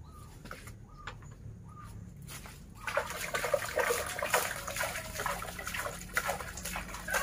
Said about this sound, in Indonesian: kemudian kita siramkan di sekitar bawah pokok pohonnya merata